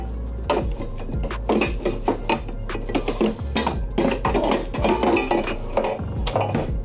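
Plates and utensils clink and rattle in a caravan kitchen drawer as it is handled, a busy run of close, sharp knocks and chinks over a low background rumble, with no speech.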